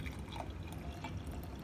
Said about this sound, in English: And I just pour it in here.